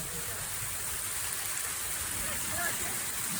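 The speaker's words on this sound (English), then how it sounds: "You put them out in the hailstorm." A hailstorm gives a steady, dense, hissing patter of falling ice, even and unbroken throughout without distinct individual impacts.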